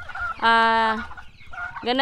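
Two loud, harmonic calls from free-range native-cross chickens ring out close by, one long and drawn out, the next starting just as the clip ends, over faint background noise.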